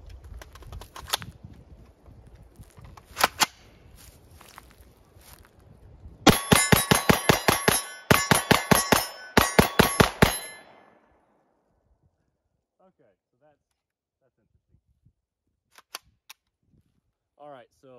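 Rapid gunfire from a test-fired ARK firearm using aluminum and brass ammunition, shot at a steel silhouette target: an irregular run of sharp reports with ringing metallic clangs during a mag dump, followed by quiet and a few faint clicks.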